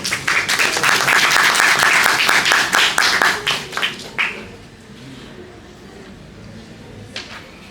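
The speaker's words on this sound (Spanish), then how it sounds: "un fuerte aplauso para el CEIL, por favor" An audience at a university lecture event bursts into loud, dense applause that holds for about four seconds, then thins out and fades into room quiet.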